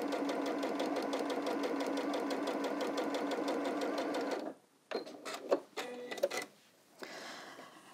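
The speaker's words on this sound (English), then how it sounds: "So all I'm doing here is sewing the last of these sets of three together." A sewing machine stitching fabric pieces together, running steadily at a fast even rhythm for several seconds, then stopping, followed by a few quieter clicks and handling sounds.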